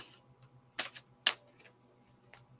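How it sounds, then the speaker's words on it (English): Tarot cards are shuffled during a psychic reading, a few sharp close riffling bursts and soft shuffles separated by quiet pauses. "just while I'm shuffling the cards"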